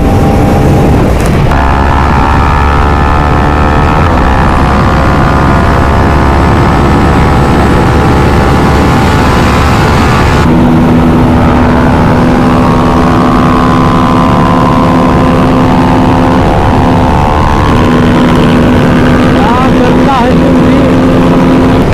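A KTM Duke 390, Apache RTR 310 and Pulsar NS400Z race together, their engines droning loud and sustained with a pitch shift partway as gears change, while a rider talks over the roar.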